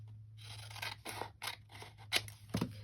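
Scissors snip through paper for a journal page in a series of short, close, crisp cuts with small rustles of paper between them, quiet overall.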